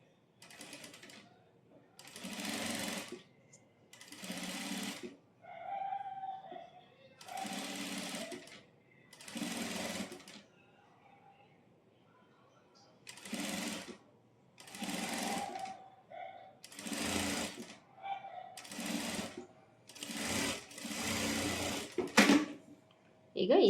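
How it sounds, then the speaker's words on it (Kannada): A sewing machine stitches thread piping onto a short sleeve in repeated runs of fast, steady whirring, each lasting a second or two, with someone talking in the pauses between runs. "ಈ ಥ್ರೆಡ್ ಪಕ್ಕದಲ್ಲೇ ಸ್ಟಿಚ್ ಬೀಳೋ ಥರ ಸ್ಟಿಚ್ ಮಾಡ್ಕೊಳ್ತಾ ಬರಬೇಕು."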